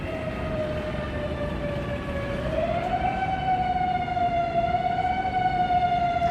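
A fire engine siren wails steadily and loudly, its long tone sliding upward in pitch midway as the truck passes nearby, with no talk over it.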